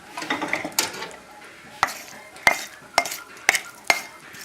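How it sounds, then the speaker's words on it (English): Onions and garlic being mixed in a bowl for an eggplant sandwich, with a cluster of scraping stirs at first followed by several sharp utensil clacks against the bowl at irregular intervals, close and fairly loud with no talking. "And we'll mix the onions and garlic in there."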